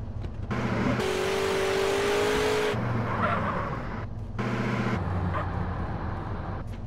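A car in Grand Theft Auto: San Andreas drives with a loud, continuous engine drone that rises and dips as it accelerates, with brief gaps and shifts in pitch, and no speech.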